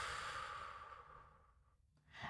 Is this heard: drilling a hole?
no